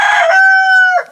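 A gamefowl rooster, a D head bird, lets out a single loud close crow, a strained opening rising into a long sustained harmonic note that breaks off abruptly at the end.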